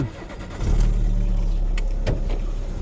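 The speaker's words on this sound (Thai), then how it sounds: "ไปฟังเสียงเครื่องยนต์กัน" A 1997 Volkswagen Vento with its original engine starts up close by, a brief crank followed by a steady, loud low idle that continues with a few faint clicks.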